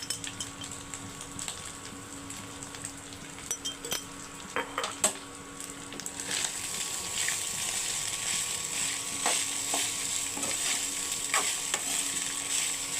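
Rice being stirred with salt and pepper in a pan, a spoon scraping and clinking against the metal over a gentle sizzle that grows steadier and louder in the second half.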